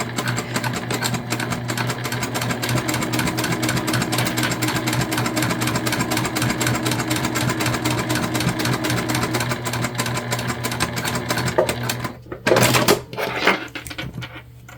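A sewing machine stitches a pouch made from a dollar store dish drying mat, running in a steady, fast mechanical hum for about twelve seconds before stopping, followed by a few handling clunks, close and loud.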